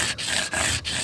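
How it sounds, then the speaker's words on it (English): Argillite stone is ground by hand against a grinding slick while a projectile point is being shaped. Three close, quiet scraping strokes follow one another quickly, with tiny pauses between them. "I just grind the material down on one edge"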